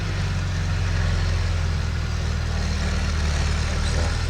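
A tractor engine runs nearby, giving a steady, low rumbling drone that holds even throughout with no speech over it.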